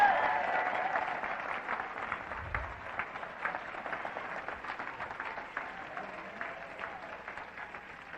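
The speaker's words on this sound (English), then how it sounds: "Give her a round of applause." A crowd at a live seminar claps steadily, a dense patter of applause that gradually fades over several seconds, with faint voices mixed in.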